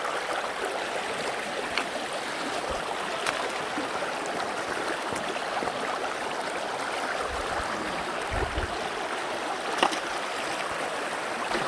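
Shallow stream flowing and trickling steadily as someone wades across it while hunting agates near Multnomah Falls, with faint splashes and gurgles close by and no talking.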